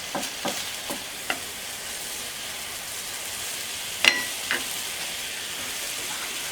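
Scallops frying in a pan over medium-high heat give a steady close sizzle, broken by a few sharp clicks and scraping stirs.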